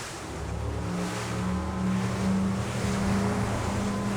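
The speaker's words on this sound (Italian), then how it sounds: "Con 1200 cavalli e 4 eliche, 2 per ciascun fuoribordo, quanto tempo occorre per planare?" A maxi inflatable boat with twin Mercury Verado 600 hp V12 outboards, each with two propellers, accelerates to plane, its deep engine drone rising steadily over rushing water and wind, loud and close throughout.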